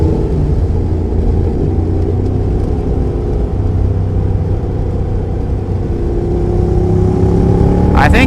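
Honda NC750X motorcycle riding on a race track, its engine droning loud and steady up close with faint rising harmonics and a short clatter near the end.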